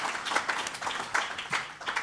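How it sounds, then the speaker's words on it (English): A short round of audience applause for the speakers at a startup mentoring talk: quick, uneven bursts of hand clapping from a modest crowd, moderately loud and fading out within about two seconds. "So just another round of applause,"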